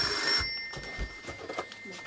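A telephone rings briefly with a bright electronic trill at the start, followed by soft handling noises and quiet room sounds.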